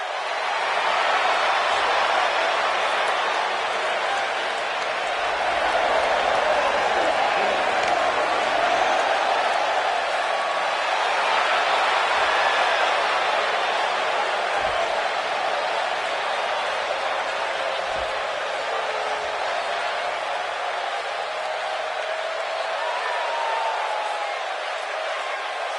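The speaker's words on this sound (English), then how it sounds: "Listen to this crowd, guys. They're fired up for this one." A packed wrestling arena crowd before a women's tag team match, cheering and roaring in a steady, loud wash of noise that swells and holds for the whole stretch, with a commentator's voice heard over it.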